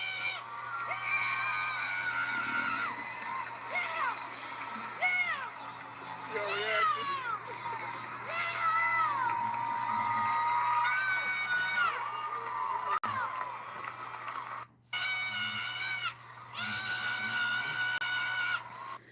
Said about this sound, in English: this is simply Glorilla cheering for Beyonce